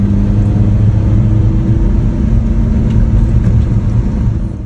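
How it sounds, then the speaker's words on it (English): A small Japanese kei truck driving along, its engine and road rumble forming a steady, loud, continuous drone close by, with no talking. "let's go ahead and jump into our little K truck."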